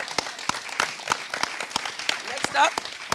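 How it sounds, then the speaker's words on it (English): An audience applauds speaker Akbar at a summit, steady clapping from a crowd with a voice speaking over it at one point, moderately loud. "Clap it up for Akbar."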